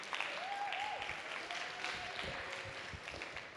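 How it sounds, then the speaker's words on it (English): Applause from a modest crowd at a weightlifting meet for the women lifters, steady clapping held at a fairly faint, distant level, with a brief whoop early on. "So give a round of applause for the girls."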